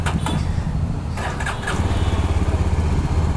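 A Yezdi Adventure motorcycle engine cranks and catches with a few sharp bursts, then settles into a loud, close, steady thumping idle with a rhythmic pulse.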